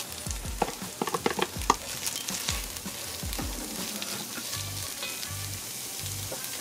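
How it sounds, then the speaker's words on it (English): Chopped onions, garlic and pimento peppers sauté in a hot pan for a Trinidad-style curry lamb, giving a steady sizzle with several sharp spoon scrapes and clanks near the start and no talking. "you're gonna let this saute for just about a minute until it becomes translucent"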